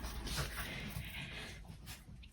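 Dogs panting and whimpering close by indoors on a Sunday morning, a steady breathy huffing with faint whines mixed in, quiet and without talk.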